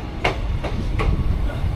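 A passenger train, the 13510 Gonda Asansol Express, runs along the line near Jasidih Junction, with a low rumble and three sharp rhythmic clacks of wheels over rail joints, loud and close.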